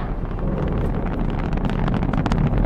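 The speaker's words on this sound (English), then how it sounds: "We have ignition sequence start. The engines are on." Saturn V rocket engines rumble at the Apollo 11 liftoff, a deep, steady, crackling roar with wind-like buffeting that continues throughout.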